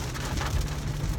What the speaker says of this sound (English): And it just started to rain, and it looks like it's gonna rain good.